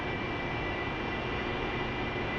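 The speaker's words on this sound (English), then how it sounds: "Throttle response with this Harrier is a little slower than most aircraft." Steady, continuous roar of an AV-8B Harrier jet engine in a flight simulator, holding a constant drone with no talk over it.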